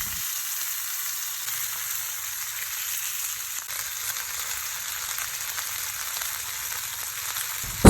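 Fish sizzling in a hot pan with ginger for paksiw na isda, a steady hissing fry that holds evenly throughout with no talking.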